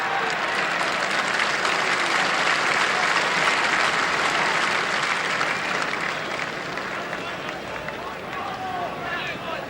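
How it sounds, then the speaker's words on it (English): Rugby crowd in the stands at a New Zealand versus Scotland test match in Auckland applauds a two-handed catch; broad, sustained clapping and crowd noise, distant and steady, easing slightly toward the end. "People in the stands clapping the good two-handed catch"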